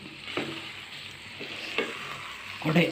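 Potatoes sizzle steadily in a pan while a utensil scrapes and stirs, with several louder clatters toward the end.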